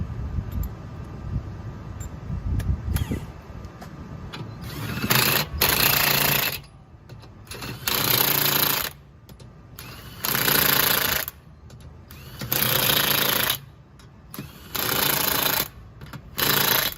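Impact wrench fitted with a torque stick driving tire lug nuts during a roadside tire change in Indianapolis, heard as five loud, even bursts of whirring hammering, each about a second long, separated by short pauses, after a stretch of quieter background noise.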